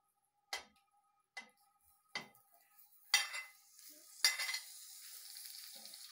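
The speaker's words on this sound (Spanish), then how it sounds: "Ya ven cómo empieza a freírse." Longaniza sausage hits a hot frying pan, with a few sharp separate sizzling bursts that build into a quiet, continuous frying crackle.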